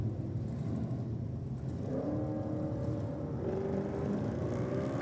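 Drag race cars, including a Ford Coupe with a small block Chevy engine, rumble low before rising engine tones climb and sweep upward as they launch down a drag strip.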